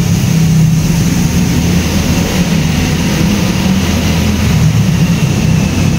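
A Toyota Avanza driven on a workshop test track after servicing, heard as a continuous loud low engine and road rumble with steady broadband noise and no pauses.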